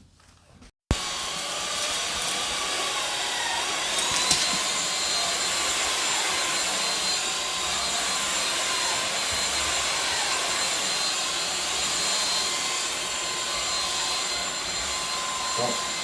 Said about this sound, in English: Now I'm going to do a full carpet vacuum